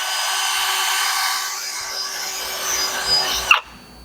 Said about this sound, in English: I just use just a wire brush on a drill.